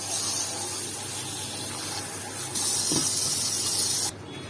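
Tap water runs in a steady hiss into a container to soak frozen fish, growing louder and brighter partway through before the flow is cut back.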